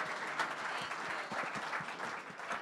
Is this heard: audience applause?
yes